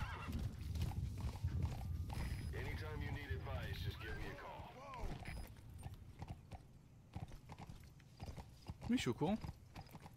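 Neighing, snorting and hoofbeats from a galloping horse in the video game Metal Gear Solid V, heard beneath nearly constant male speech in French.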